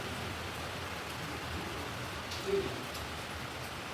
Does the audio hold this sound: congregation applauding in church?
no